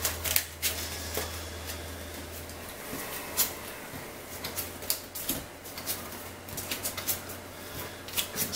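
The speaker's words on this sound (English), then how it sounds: "Just going to give it another quick shuffle." Quick shuffling of a deck of Yu-Gi-Oh! cards at a tabletop game, a soft run of papery riffles and flicks with small sharp snaps, fairly near and quiet, with no talk over it.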